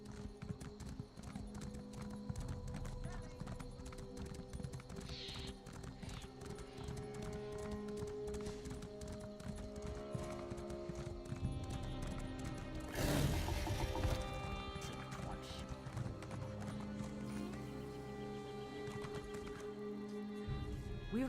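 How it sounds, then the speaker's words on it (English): Horse hooves clip-clopping at a gallop in the video game Elder Scrolls Online, a steady rapid rhythm running throughout with an occasional whinny, layered over game music and ambience. "We race fine horses."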